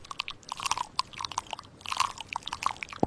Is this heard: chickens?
no